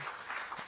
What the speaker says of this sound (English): And a round of applause for Vignesh